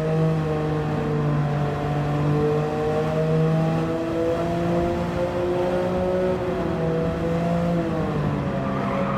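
Race cars lap a track in Gran Turismo 7 with a traffic mod, their engines droning loudly and steadily with pitch that rises and falls as they accelerate and shift, with no break throughout.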